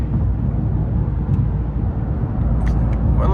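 A BMW 540i's engine and exhaust rumble as a low, steady drone from inside the moving car, with a few faint higher noises near the end.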